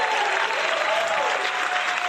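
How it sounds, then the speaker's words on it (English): Applause from an audience during a podcast episode: a dense, continuous wash of clapping at steady loudness, with no voices on top. "Give an applause real quick for her."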